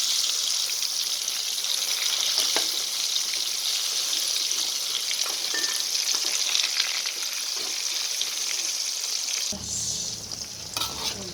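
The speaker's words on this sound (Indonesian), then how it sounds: "Iki kari nerusno goreng tomate mau" Tomatoes sizzle and crackle loudly in a hot pan, a dense continuous fry with occasional stirring scrapes, then quiets abruptly near the end.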